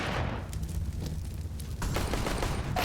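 Rapid gunfire echoes through a Counter-Strike: Global Offensive match on Dust2, a loud continuous burst of shots that dips briefly before surging again.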